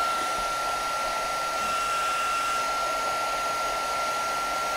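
Steady, continuous whoosh of a heat tool blowing hot air to melt craft material, close and unbroken, with no talk.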